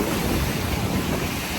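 Ocean surf washes steadily at Vero Beach, Florida, a loud continuous roar of waves mixed with heavy wind buffeting the microphone, with no voices.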